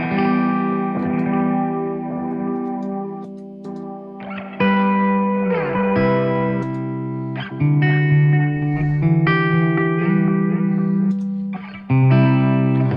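An electric guitar rings out chords and notes through heavy modulation and reverb effects, with the tone shifting and swirling as the settings change.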